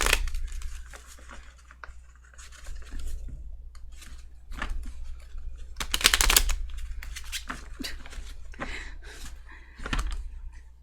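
Tarot cards being shuffled by hand: a series of papery riffles, flutters and crinkling bursts, close and fairly loud, with the heaviest burst around the middle and quieter rustles between.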